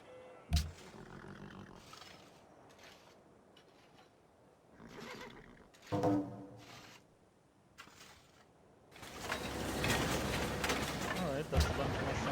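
A horse in Civilization V neighs in several sharp whinnies, with louder, rougher bursts toward the end; a person talks quietly in between.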